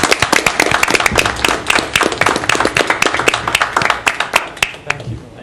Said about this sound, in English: We'll take a round of applause on that one